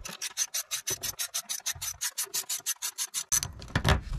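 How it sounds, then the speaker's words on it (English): A 9/32 ratchet clicks as it backs out a side grille screw on a Silverado 2500 HD, giving a fast, steady run of close, loud rasping strokes, about twenty in a row, that end in a denser burst of handling noise. "there's one more screw that we're going to have to remove, which is here on the side. The ratchet that we use is 9/32."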